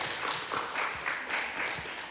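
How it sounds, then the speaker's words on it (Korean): A church congregation at a Wednesday evening prayer service applauds together, a steady mass of overlapping claps held at an even level for a couple of seconds. "우리 서로에게도 우리 격려의 박수 한번 해줄 수 있었으면 좋겠습니다."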